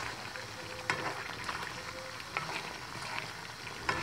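Chicken with red chilli and nihari spice mix sizzles steadily in a frying pan as it is stirred, a constant close crackle broken by a few soft spoon knocks, with no talking.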